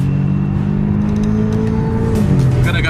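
An Audi S3 fitted with a Forge turbo muffler delete accelerates hard, heard from inside the car: a loud, continuous engine roar with rising pitch, turbo whine and whir layered on top.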